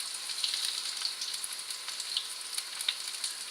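Chinese green onion pancakes frying in oil in a pan, giving a steady close sizzle with scattered small pops and crackles throughout.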